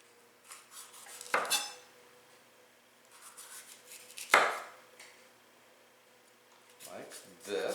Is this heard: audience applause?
no